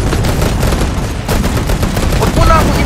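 Sniper rifle gunfire in a shooter video game rings out as a rapid, loud string of sharp cracks close up, packed with other game noise and a hint of voice underneath.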